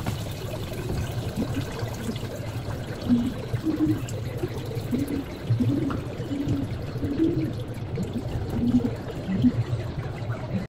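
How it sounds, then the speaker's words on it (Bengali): Water pours steadily over raw fish pieces being rinsed in a kitchen, a soft continuous trickle and splash close by with no talking. "মাছকুটি ধুয়ে নিলাম"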